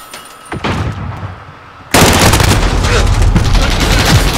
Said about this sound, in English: The flashbang didn't do anything.